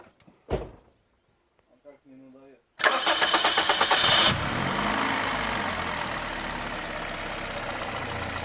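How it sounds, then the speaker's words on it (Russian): A car engine undergoing Dimexide decarbonization cranks and catches with a sudden loud start, then is held at raised revs, humming steadily and close; a door-like knock and a few short spoken words come before it. "Заводим движок и будем гудеть на повышенных оборотах в районе часа"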